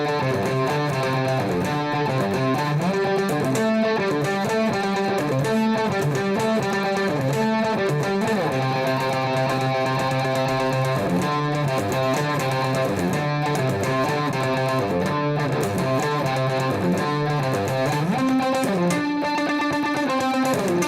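A distorted electric guitar plays the second bridge straight through, loud and steady, with effects-coloured chords and riffs and no pauses or talking.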